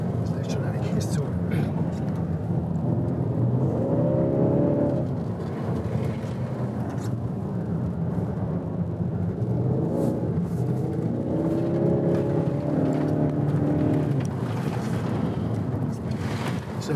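A Skoda Kodiaq SportLine 4x4 on studded 4 mm spike tires runs a handling course over bare ice, a steady close road-and-wind roar with engine tones swelling twice, while someone talks over it throughout.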